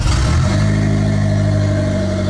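A Rover/MG car engine running with its exhaust unbolted, loud and close, a brief rev at the start settling into a steady, rough droning idle.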